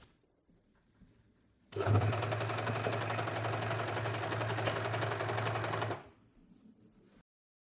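A sewing machine stitching stretched fabric for summer shorts runs in one continuous, steady mechanical whir lasting about four seconds, close and fairly loud, then stops abruptly, with no talking.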